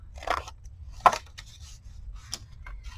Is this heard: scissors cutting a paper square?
yes